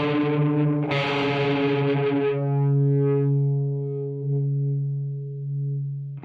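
Electric guitar with humbucker pickups played through a doubler effect: a bright chord strum that rings out as a sustained, thickened tone, slowly fading with a slight wavering shimmer, then a brief second attack at the very end.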